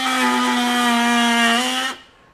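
A Ryobi Gen 2 18V One+ HP multi tool with a multi-material blade, set to speed 6, cuts pine with a loud, steady buzzing whine that cuts off abruptly near the end.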